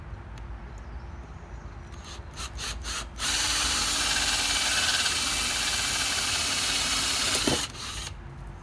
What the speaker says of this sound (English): I'm going to drill a hole in each corner of my outlet box